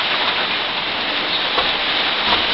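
Steady rain falling outdoors by a horse trailer, an even, dense hiss of drops heard close and loud throughout, with no voices.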